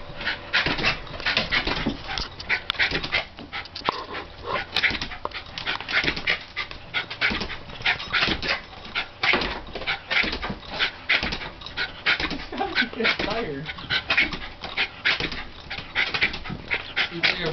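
A dog jumps repeatedly at a TV, panting hard in a steady rhythm with occasional whimpers, close and continuous, while people talk faintly in the background.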